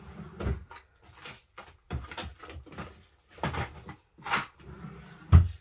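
Wooden drawers slide open and shut several times in a craft room during a hunt for stamping brushes, with irregular knocks and scrapes at close range and no talking.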